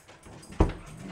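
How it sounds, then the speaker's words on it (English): A dog gives a brief whimpering yelp indoors in a house while dogs play nearby, a single sharp sound over a quiet background. "I'm just gonna go in here and shut the door so we can't hear the dogs as much playing."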